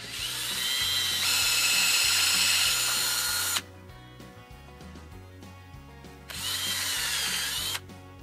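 A power drill with a 5/16 bit bores holes into a log for shiitake mushroom cultivation: two loud whirring bursts with a pitch-shifting motor whine, separated by a quieter stretch of idling and handling noise, close up.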